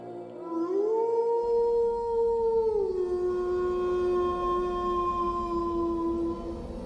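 A long, mournful canine howl rises and holds steady for several seconds in the night, loud and close, with a low rumble underneath and no voices.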